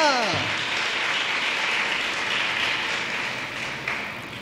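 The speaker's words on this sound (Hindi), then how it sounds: "Give a big hand. जोरदार तालियां बजाइए।" A church congregation claps loudly and steadily during a sermon, a thick continuous wash of applause that holds for several seconds, with a short spoken phrase at the very start.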